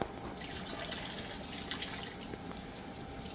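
Warm tap water running steadily to dampen a cheesecloth towel in an RV kitchen, a soft continuous splashing flow with faint drips, fairly quiet and close, no talk.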